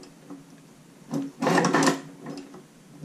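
A Chinese shoe patcher sewing machine runs in one short, close burst of stitching lasting about a second, with a brief tap before it and faint clicks after, in a quiet room.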